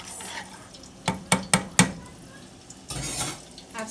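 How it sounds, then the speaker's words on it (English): Fresh coconut milk being whisked in a pot, a quick run of four sharp metallic knocks and scrapes, a short pause, then a softer swishing stir. "I'm just going to add the fresh coconut milk to it. This is 2 cups of coconut milk in it. Give it a whisk"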